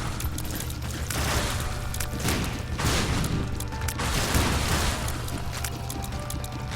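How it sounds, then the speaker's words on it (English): Explosions from tear shots in The Binding of Isaac: Afterbirth, a dense, continuous barrage of booming, crackling blasts with surging waves of rumble and no pauses. "All those explosions from my tears."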